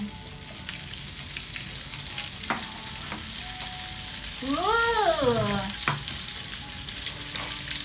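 Steady close sizzle of food frying in a pan, with scattered clinks and a brief meow-like call partway through.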